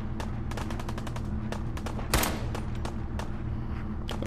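Pipe pistol shots in the video game Fallout 4, a string of sharp, quick gunshots of varying loudness, with one louder, fuller blast partway through.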